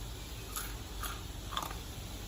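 Freshly fried crunchy French fries bitten three times, each bite a short crisp crunch heard close over steady background noise.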